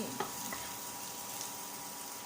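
Spices heat and fry in oil in a pan while filling is being made from steamed green beans, giving a steady close sizzle with faint stirring clicks throughout.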